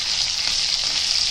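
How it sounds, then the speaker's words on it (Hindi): Onions and potatoes frying in a pan for a Konkani sabzi, a steady close hiss of sizzling oil with no pauses and no voices. "और प्याज को फ्राई करके लेंगे।"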